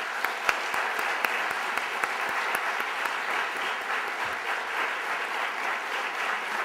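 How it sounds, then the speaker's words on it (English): Audience at a literary awards ceremony applauds the judges, a continuous room-filling patter of many hands with a few louder nearby claps standing out, steady and moderately loud throughout. "we'd like to just shower you with applause"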